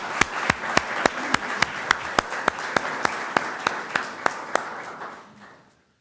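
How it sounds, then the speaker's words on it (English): Rhythmic applause from an audience at a State of the City address, a series of sharp even beats settling into a steady pace before fading out. "give a big round of applause for all"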